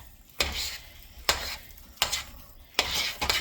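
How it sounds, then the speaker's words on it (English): Cheese is stirred into a fish cake mixture with a utensil, giving four evenly spaced scraping strokes against the bowl, each a sharp onset that trails off, close and moderately loud with no talking. "I'm going to stir the cheese in so it gets all through it."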